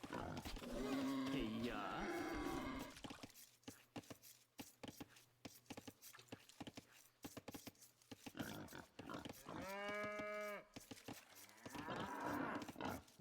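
Cattle in the Age of Empires video game moo loudly in a long, drawn-out call, set among rapid clicking game sounds, with someone talking before and after.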